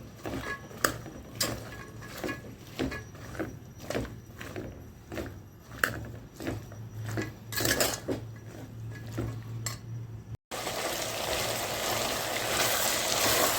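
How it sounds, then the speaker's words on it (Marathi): Vegetables stirred in oil in a pan for Kolhapur-style bhogi bhaji, with repeated metallic scrapes and clinks of a spoon against the pan over a low steady hiss, louder and denser near the end. "ह्या सगळ्या भाज्या छान मिक्स करून घ्यायच्या या तेलामध्ये चांगल्या परतून घ्यायच्या"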